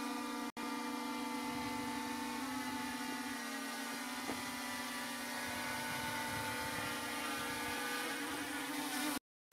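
A Holy Stone drone hovers and flies close by, its rotors giving a steady, loud whine with strong sustained tones and a brief dropout early on, continuing unbroken until an abrupt cutoff.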